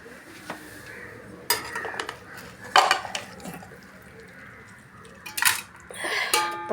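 A pot of fish biryani made for cats is stirred and turned with a metal utensil, giving irregular scraping clinks and clatter over a soft, steady background, close by.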